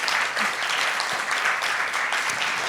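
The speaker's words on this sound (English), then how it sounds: "please welcome, join me in a round of applause for our wonderful speakers" Conference audience at a sickle cell disease apheresis session applauds the speakers, a dense, fairly loud patter of clapping that stays steady throughout the short stretch.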